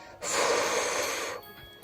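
A voice imitates Frost blowing cold breath onto branches, a single drawn-out, breathy whoosh lasting about a second, close and fairly loud, with no words.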